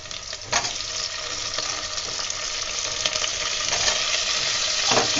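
Chopped tomatoes hit hot oil with softened onions in a pan for seeraga samba chicken biryani, giving a loud, steady sizzle and crackle with stirring scrapes, no voices.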